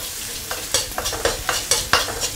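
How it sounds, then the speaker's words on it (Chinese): Scallions, shallots and garlic sizzle gently in oil over low heat, with rhythmic scraping strokes of a spatula stirring them in the pan, close and fairly quiet. "小火给它炒香。"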